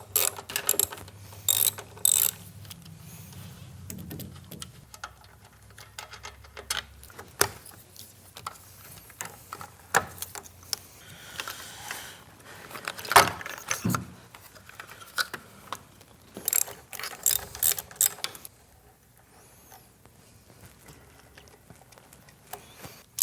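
A hand ratchet with a 1/2 inch socket loosens the ECM tray bolts on a Milwaukee-Eight Harley Road Glide, giving repeated bursts of close metallic clicking with pauses and handling clatter, and no talking.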